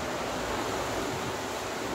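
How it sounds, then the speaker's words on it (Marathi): Heavy rain pours down outside a home, a steady, dense hiss that holds at an even level throughout, with no voices over it. "बाहेर पावसाचा आवाज तुम्हाला येत असेल, खूप जोरामध्ये पाऊस पडतोय"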